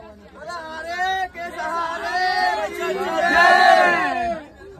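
Dense crowd babble fills a packed Sainik Express passenger train carriage on the Delhi to Khatu route, with many overlapping voices and shouts near and far, swelling louder toward the end.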